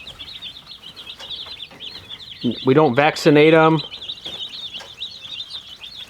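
One-day-old unsexed chicks peeping continuously in a high, busy chorus, with a voice speaking briefly over them partway through.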